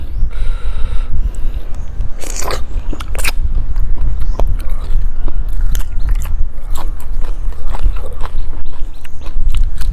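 Someone eating tender beef liver close to the microphone, continuous loud wet chewing and biting with small crunches and smacks, no talking.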